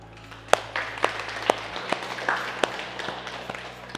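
Sharp hand claps ring out in a steady beat, about two per second, over a murmuring room and a low background hum.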